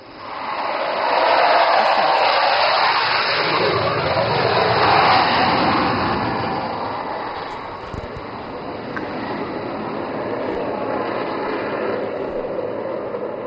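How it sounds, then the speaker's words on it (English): Fighter jet roaring overhead during a flying display over Assam, a loud broad rumble that swells twice and then settles into a steady distant drone, with faint crowd noise. "देखिए इस fighter jet से अलग अलग करतब जो है देखने को मिल रहे हैं"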